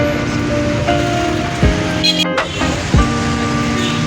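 Interior of a moving Suzuki car driving through a city market area, with steady engine and road rumble, a few thumps and knocks over the run, and faint traffic noise around it.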